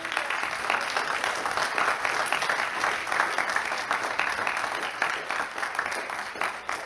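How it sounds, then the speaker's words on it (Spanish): A church congregation applauds during a Spanish-language service, a sustained, even wash of many hands clapping at close range that continues steadily throughout, with no distinct voices over it. "Den un fuerte aplauso al Señor."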